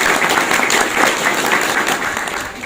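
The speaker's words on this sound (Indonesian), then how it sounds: "Tepuk tangan untuk pagar nusa." An audience at a religious youth gathering applauds for Pagar Nusa, a dense, loud burst of clapping from a crowd that holds steady and tapers slightly at the end.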